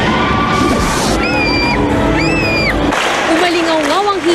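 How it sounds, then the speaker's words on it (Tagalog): A large crowd at a Chinese National Acrobatic Circus show in Araneta Coliseum yells, whoops and cheers loudly, with high excited shouts rising over a dense roar, and children's voices among them. "Umalingaw-ngaw ang hiyawan at palakpakan sa Araneta Coliseum sa pagtatanghal ng Chinese National Acrobatic Circus."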